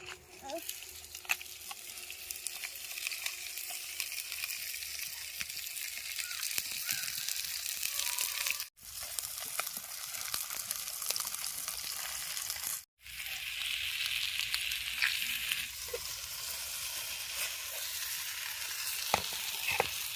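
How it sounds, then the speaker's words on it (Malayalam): Fish wrapped in banana leaf frying in a pan, a steady close sizzle and crackle throughout with two brief dropouts, no one speaking. "കയ്യിന്ന് ഞാൻ ഇതെടുത്ത് കിങ്ങിണി ഇതിനകത്തേക്ക് വെച്ച് മീൻ കെട്ടി ഇതിലോട്ടിടാം"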